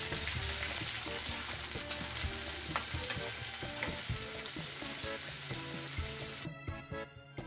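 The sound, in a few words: small fish frying in oil until golden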